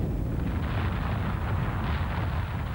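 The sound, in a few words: explosive volcanic eruption of Mount St. Helens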